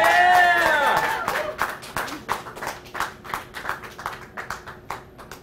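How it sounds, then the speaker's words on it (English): An indoor group cheers and then claps at a talk about eating insects. A voice whoops at the start, followed by a run of separate, uneven claps that fade out. "they're going to help me cheer it on"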